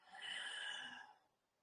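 One slow, soft inhale through the nose during a yoga breathing exercise, a breathy airy rush lasting about a second that fades out, close but faint, with no talk.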